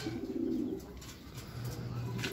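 A pigeon coos softly in low, throaty notes against a steady background hiss, with no voices.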